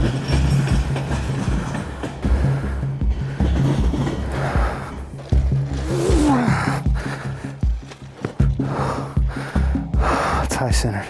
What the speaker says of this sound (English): train coming down the track